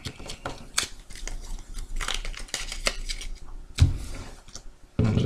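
A deck of playing cards being shuffled up close, with a steady run of crisp papery clicks and snaps and a few louder slaps near the end.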